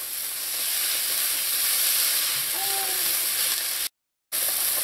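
Seasoned celery and scallions, with salt and black pepper, sizzle steadily in a hot pan during mixing, a bright continuous hiss throughout that cuts out for a brief moment near the end.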